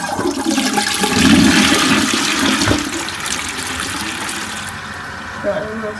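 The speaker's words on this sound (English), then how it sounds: "Before you couldn't hardly flush it, but now you can flush it even better." An Armitage Shanks Venture toilet flushing close by, a loud rushing surge that builds and then settles into a steady refilling hiss, with a brief knock near the end and a voice heard faintly underneath.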